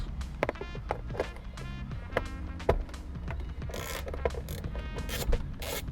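A ratchet wrench turns out 10mm bolts from the center console of a 2008-2021 Subaru STI, with rapid ratcheting clicks in bursts over a steady low hum, close and moderately loud.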